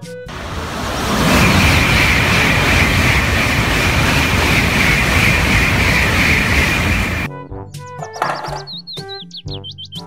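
A high-speed train rushes by in a loud, steady broadband roar for about seven seconds, then cuts off abruptly to give way to a few bright, bird-like chirps and tones.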